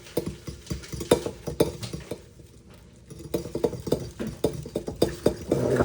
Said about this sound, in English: Get a good whisk in there.